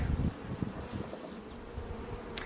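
Honey bees buzz around an open hive during an inspection on World Bee Day, a dense, close humming swarm that holds steady throughout with soft rustling and no talk.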